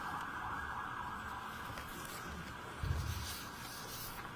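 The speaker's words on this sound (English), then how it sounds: "hold on 1 minute while the sirens pass." Emergency sirens wail in the background outside a courtroom with a steady rumble of traffic, the sound swelling slightly as vehicles pass; no one speaks.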